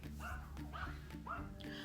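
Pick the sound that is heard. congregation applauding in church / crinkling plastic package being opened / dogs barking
dogs barking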